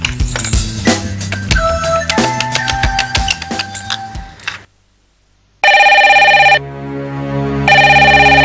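Telephone bell rings loudly in two long bursts near the end, after a stretch of layered music and a brief pause; the setting is a Hindi TV serial scene.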